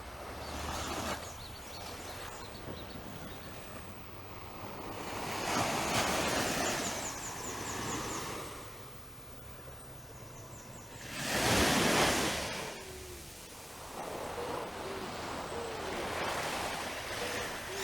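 Ocean waves wash onto a sandy beach at Gibbs Bay at daybreak, a steady surf roar that swells and breaks in loud surges around the middle and near the end, with wind noise over the microphone.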